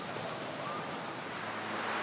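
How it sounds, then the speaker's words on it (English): Night rain in The Witcher 3 video game, a steady even hiss of rainfall that fills the scene at moderate level with no breaks and no talking. "It's nighttime, it's raining."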